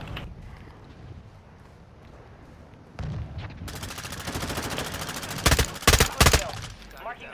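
Burst-fire weapon in a Call of Duty match: short, rapid clusters of gunshots crack out loud and close, several bursts in quick succession over background game ambience and footsteps.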